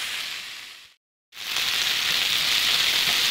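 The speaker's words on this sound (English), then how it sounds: "We're still cooking this down" Roast chicken fajita filling sizzles over turned-up heat, a dense close frying hiss that drops out briefly and then returns louder and steady.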